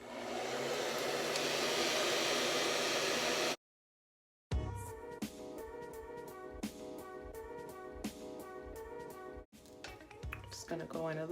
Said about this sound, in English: You just want to get a cool dryer.